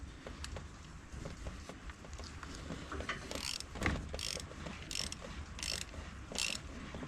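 Ratchet wrench turning a broken exhaust manifold bolt on a C7 Corvette: rapid pawl clicking under steady background hum, with a bump midway, then a series of five evenly spaced, longer ratcheting bursts.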